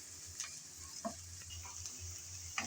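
Chopped onions frying in a pan for a chicken curry, a soft steady sizzle broken by a few light ticks and scrapes as they are stirred, quiet and without talk.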